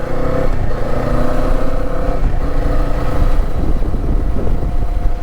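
A 2024 Kawasaki Eliminator 450 motorcycle engine revs up and down during a test ride, loud and close, with rising and falling engine pitch mixed with wind and road rumble.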